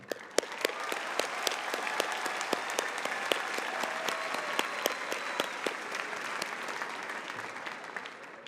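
Graduating seniors at a Navarro Early College High School ceremony receive audience applause, a steady, fairly distant wash of many hands clapping with sharp individual claps standing out, sustained throughout.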